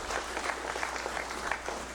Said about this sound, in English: Let's give him a round of applause also.